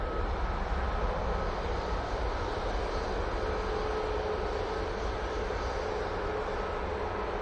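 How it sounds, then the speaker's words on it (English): Boeing 737 MAX 8 jet bound for Palma de Mallorca at Manchester Airport, its engines a steady, fairly distant broadband roar that holds even throughout, with no voices over it. "Using the beautiful 737 at MAX 8."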